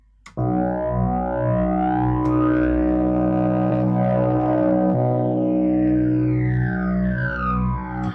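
A thick, buzzing synth tone distorted by the Incinerator plugin, with gritty texture, sustains loudly, its harmonics sweeping and wobbling with slight glitchy shifts throughout.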